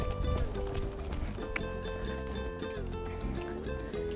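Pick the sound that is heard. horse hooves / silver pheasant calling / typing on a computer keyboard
horse hooves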